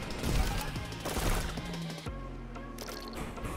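Gunfire in the video game Neon White, rapid clattering shots and mechanical clicks layered over loud game music and effects, dense and continuous for a few seconds.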